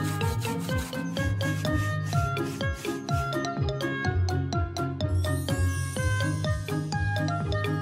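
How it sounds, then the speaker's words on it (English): Cartoon scrubbing at a car wash for a kids' show, a steady rhythmic rubbing and rasping loop with bright jingling accents, loud and continuous over a bouncy musical bed. "Scrub, scrub, scrub."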